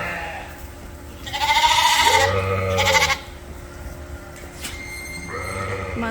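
Ewes and lambs bleat in a pen on a sheep farm during weaning, several loud nasal calls overlapping near at hand, then a quieter bleat later among other farm noise.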